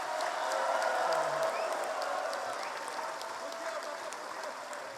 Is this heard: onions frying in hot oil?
no